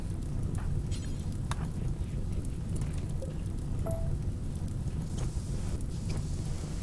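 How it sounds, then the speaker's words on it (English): Steady rain in RimWorld forms a dense, even wash of falling water, constant and moderately loud throughout, with faint scattered clicks and no voices. "you better pray for rain. There it is."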